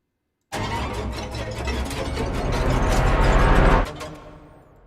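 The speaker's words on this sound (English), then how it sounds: "I have created a nice riser" A synthetic riser made in Weaponiser sweeps in after a brief silence, building steadily in intensity with a pulsing texture, then cuts off and trails away into a fading tail.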